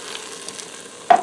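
A spoon stirs cream of mushroom soup and water in a pressure cooker pot over a roast, a soft low swirl and faint sizzle ending in one louder scrape against the pot.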